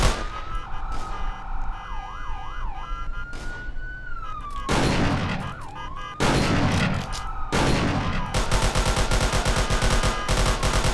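Gunfire in the Roblox police roleplay game ERLC, sharp bursts of shots ringing out over a wailing police siren that sweeps up and down, with rapid loud cracks toward the end.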